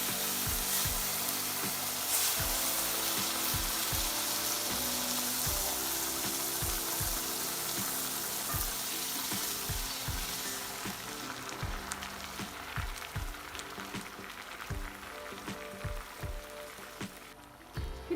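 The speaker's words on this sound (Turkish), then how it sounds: "Evet baharatlarımızla birlikte biraz kavuruyorum." Ground ginger and turmeric with other spices sauté in a pan, giving a steady close sizzle and frying hiss with intermittent stirring clicks and scrapes of the utensil against the pan.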